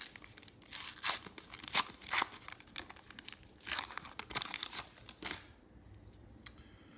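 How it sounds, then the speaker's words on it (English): 1991 Upper Deck baseball card packs torn open by hand, with bursts of crinkling foil wrapper and ripping, several loud tears in irregular succession, close up with no voices. "Let's bust open some cards."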